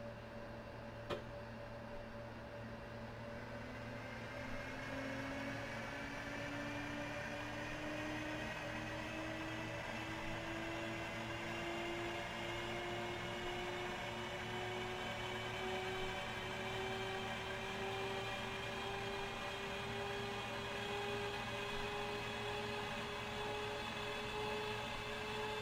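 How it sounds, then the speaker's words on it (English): The BMW-style radial engine of an Fw 190 A-8 fighter in DCS World runs steadily after start-up, a continuous droning hum with a slowly rising tone and no talk over it. "until the engine start catches and you hear the engine running smoothly"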